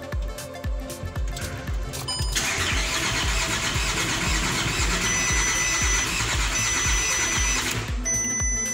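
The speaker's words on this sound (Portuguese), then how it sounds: "vou dar partida no motor" A VW Amarok engine cranks steadily but fails to catch, the starter whirring in a rhythmic, continuous grind for several seconds, close and loud with no speech.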